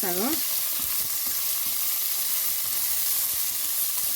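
Ingredients for a gongura paneer biryani fry in a hot pan: a loud, continuous close-up sizzle with soft intermittent stirring thumps, and a brief tonal squeak at the very start.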